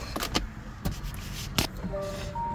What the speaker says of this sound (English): I can hear the contact click.